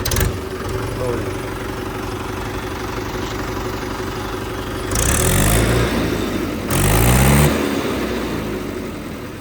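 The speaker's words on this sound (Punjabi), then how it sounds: "ਟਰੈਕਟਰ ਨੂੰ ਸਟਾਰਟ ਕਰੂਗਾ ਬਾਈ ਟਰੈਕਟਰ ਦੇਖ ਲਿਓ ਸਟਾਰਟਿੰਗ ਵਗੈਰਾ" A Mahindra 585 tractor engine idles steadily in a low rumble, with two louder bursts as it revs up, accompanied by brief voices.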